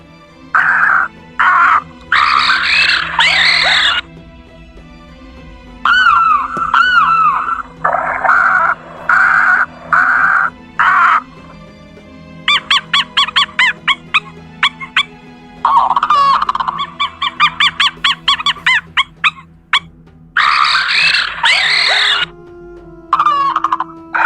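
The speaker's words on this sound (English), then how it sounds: "Each bird, each creature makes a different sound." Various birds and creatures call in turn, with loud crowing, gobbling and squawking bursts, chirpy trills and cawing, separated by short pauses. No one speaks.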